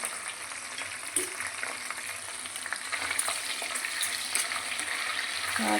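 Two dried red chillies fry in hot oil with a steady, close sizzle and crackle that grows slightly louder over the few seconds, while faint stirring sounds come through underneath.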